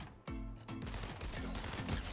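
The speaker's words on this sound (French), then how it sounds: "c'est une arme explosive. Hein. Donc vous tirez, et ensuite, il y a une charge qui explose." An explosive weapon in the Fortnite video game fires and its charge detonates, with a sharp blast followed by a rapid series of punchy bangs, loud and close.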